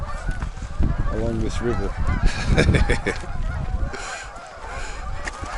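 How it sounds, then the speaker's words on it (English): Geese honk repeatedly along a river as a boat passes them, several loud overlapping calls in bursts, with someone speaking briefly over the flapping and honking and water noise underneath. "The geese, who are not part of the flotilla keeping ahead of us, are just moving out as we pass them"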